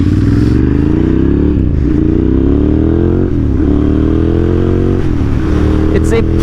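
Old air-cooled Ducati Monster motorcycle being ridden, its engine droning loud and continuous with repeated rises in revs and brief dips at gear changes, a voice talking over it.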